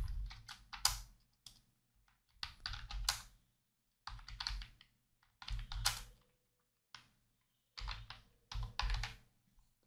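Quiet bursts of typing on a computer keyboard while entering a message in Excel, with clusters of rapid keystrokes separated by brief pauses.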